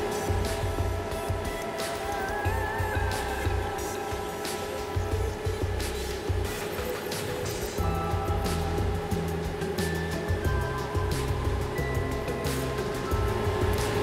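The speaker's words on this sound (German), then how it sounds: "das, was dort jetzt rauskommt, das ist Sauerstoff. Das pumpen sie hier reinpumpen" Oxygen is pumped into groundwater at a tap-water supply facility, producing a steady rushing, bubbling wash with mechanical hum underneath, continuous and fairly constant in level.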